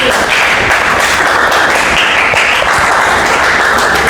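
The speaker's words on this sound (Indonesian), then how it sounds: "kasih tepuk tangan untuk Nadia" Classroom audience applauding for a student, a loud, steady wash of many hands clapping that fills the whole stretch with no talk over it.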